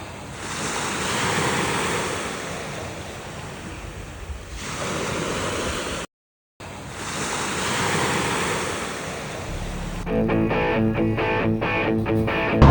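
Sea waves wash steadily in a bay on the Montenegrin coast, a broad continuous surf roar with gusting wind noise on the microphone, cut by a short silence before some music comes in near the end.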